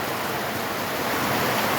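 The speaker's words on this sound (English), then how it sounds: "I got rained out. And it is pouring." Heavy rain pours down steadily outside a house with a pool, a dense continuous roar of water filling the whole clip with no voices.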